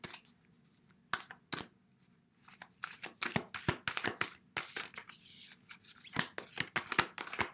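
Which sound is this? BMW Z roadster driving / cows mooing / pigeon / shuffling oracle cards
shuffling oracle cards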